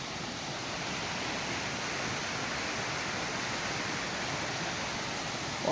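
Water flowing steadily, a dense, even rushing wash that holds at the same level from start to finish with no voices.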